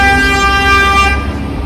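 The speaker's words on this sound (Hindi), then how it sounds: "यहाँ पे जल्दी से हॉर्न तो नहीं मारते, बट जिसको गुस्सा आता है वही मारता है" A car horn on a London street near Canary Wharf in winter, one loud sustained honk held close for over a second, then cut off, over faint traffic hum.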